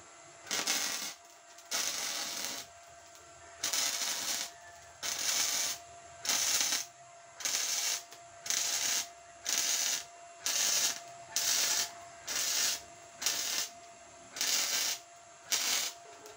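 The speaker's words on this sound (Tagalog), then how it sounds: "Ngayon, ipo-full weld na po natin to." Arc welding runs a full weld on a used-oil stove, heard as a series of about fifteen short, harsh crackling bursts, each lasting roughly a second and separated by brief quiet gaps, fairly close and with no talk.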